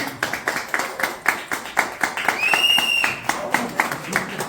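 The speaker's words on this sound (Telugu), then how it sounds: "క్లాప్స్ అందరూ." Clapping from a group of people at a Louis Braille birthday celebration, a steady run of regular claps close by, with a high whistle-like tone rising midway.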